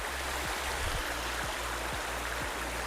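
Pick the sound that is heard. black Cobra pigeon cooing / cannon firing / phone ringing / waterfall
waterfall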